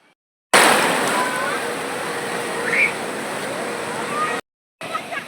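Sea waves roll in on Puri beach: a loud, broad, steady wash of surf that cuts out briefly and then returns, with wind on the microphone.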